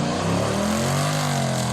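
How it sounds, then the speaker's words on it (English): A Jeep revs loudly and close as it passes, its engine note climbing and sweeping across the short stretch with no talking over it. "Is that a car? That was a car. Oh, it's a Jeep."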